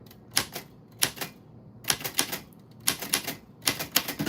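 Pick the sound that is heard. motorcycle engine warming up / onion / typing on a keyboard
typing on a keyboard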